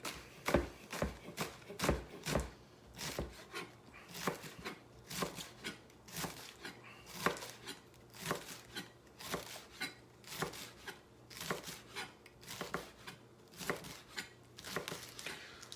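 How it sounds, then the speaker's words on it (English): A knife chops cleaned gelan leaves on a cutting board in a steady run of crisp, close taps, around twenty strikes in quick uneven rhythm with no talking. "got my gelan leaves already cleaned up, ready to be chopped up. So you can see it here. I'm going to chop it"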